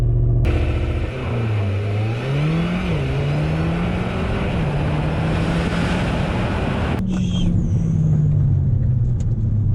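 A Mercedes GLA45 AMG launches under launch control, its engine roaring loud and close with a steady rising pitch through the gear changes, then a sharp mechanical clunk near the end.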